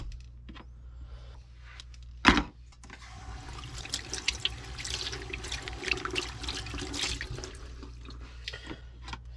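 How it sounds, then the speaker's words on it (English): Water from a tap runs steadily over freshly cut vegetables being rinsed at a campsite, beginning after a sharp knock and splashing and spattering unevenly for several seconds, close with no talk. "A little rinse."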